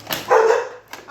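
A couple of dogs bark indoors in a short burst over rustling, with one loud central bark and a fainter yelp near the end, while makeup packaging is being unboxed.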